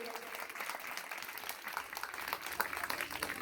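An audience at a ceremony honouring Savitribai Phule claps together in a steady, dense round of applause, moderately distant and continuing throughout.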